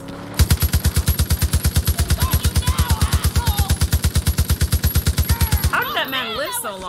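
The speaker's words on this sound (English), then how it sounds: "now we got an LMG" A light machine gun in the shooter game Far Cry New Dawn fires one long, rapid, loud burst of evenly spaced shots, followed by voices talking over the tail.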